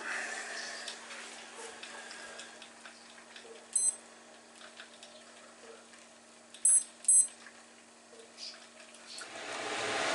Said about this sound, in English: 5-minute timer